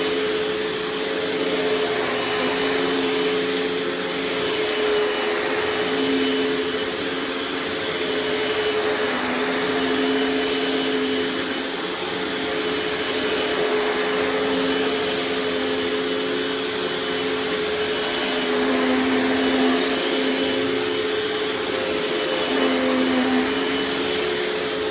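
A Panasonic Performance Plus Platinum MC-UG589 upright vacuum cleaner runs steadily nearby, a constant broadband motor roar with a stable whine that holds throughout and slight dips as it is pushed.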